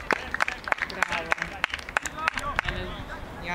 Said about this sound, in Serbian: Aplauz za mladog Jagodinca